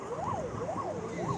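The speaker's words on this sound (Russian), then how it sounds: "Вон она, скорая." An ambulance siren wails in a steady rising-and-falling cycle on a street near a hospital in Yakutsk, moderately close and continuous over low traffic rumble.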